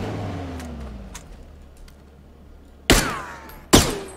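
A car engine in the video game PUBG hums and winds down, then two sharp, loud gunshot bursts ring out close by. No one speaks.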